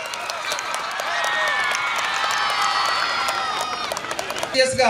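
A crowd at an outdoor public demonstration event gives loud, sustained applause with scattered cheering, swelling over several seconds with voices mixed into the clapping.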